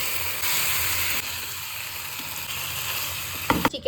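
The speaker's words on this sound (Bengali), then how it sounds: "তেল গরম হচ্ছে, মশলাটা আমি ভালো করে কষিয়ে নিচ্ছি।" Spice paste sizzling hard in hot oil for chicken bhuna, a loud continuous fry with bursts of hiss, ending in a few scraping clatters of a spoon in the pan.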